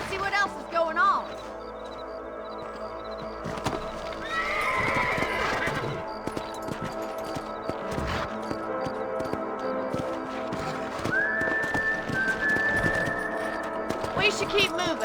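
Horses in Red Dead Redemption, a Western video game, whinny loudly and their hooves clip-clop steadily, with game dialogue heard over the animals.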